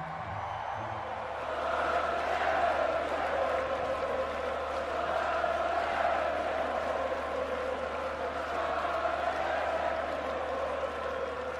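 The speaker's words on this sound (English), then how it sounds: "That's Jeremy Corbyn, former leader of the Labour Party, being serenaded by the crowd at Glastonbury in 2017." Large outdoor festival crowd at Glastonbury 2017 serenading Labour leader Jeremy Corbyn: a distant, sustained wash of massed voices singing and chanting together, steady and reverberant for the whole stretch, with no distinct individual words.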